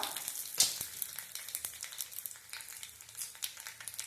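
Mustard seeds, cumin and dried red chilli tempering in hot oil for sambar rice, a quiet crackling sizzle with scattered sharp pops and spits, close and without talk.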